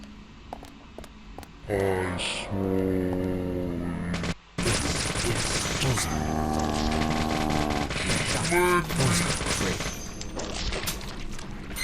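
Gunfire from a weapon in the video game Deadly Premonition, with repeated shots running almost continuously through the clip over a busy game soundtrack, while someone talks over parts of it.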